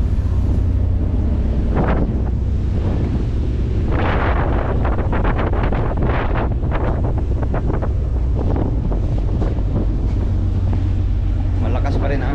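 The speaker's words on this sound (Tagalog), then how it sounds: "Malakas pa rin ang hangin." Strong wind buffets the microphone in a constant heavy roar, with gusty rumbling bursts and a voice faintly audible underneath.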